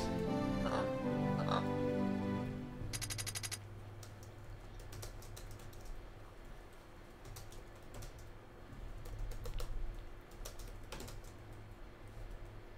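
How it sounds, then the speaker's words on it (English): Typing on a computer keyboard, done awkwardly at an angle: scattered quick clicking keystrokes in small bursts at close range, after a stretch of a voice humming or making low throat noises. "typing at an angle is hard."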